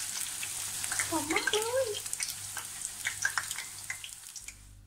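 Batter-coated flowers deep frying in hot oil, a busy bubbling sizzle with scattered pops throughout, while someone speaks briefly over it.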